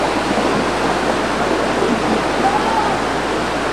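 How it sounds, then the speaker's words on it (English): Flood water rushes in a torrent toward a river at Bewdley Lower Park, a constant loud roar of churning water with a voice faintly underneath. "I don't know if you can hear the water running in the background."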